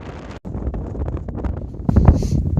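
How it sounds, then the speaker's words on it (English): Wind gusting across an open snowy mountain plateau at Finse, Norway, a steady roar with buffeting against the microphone that swells louder near the end. "And the wind."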